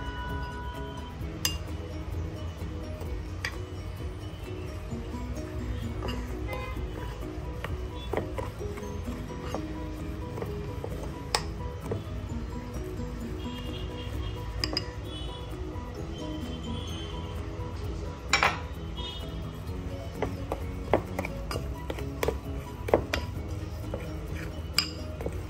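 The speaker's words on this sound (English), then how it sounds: "with a different spoon, I'm going to mix the second bowl" A spoon stirs dhokla batter in a second bowl, giving scattered light clinks and scrapes against the bowl over a steady low kitchen hum, with occasional sharper taps.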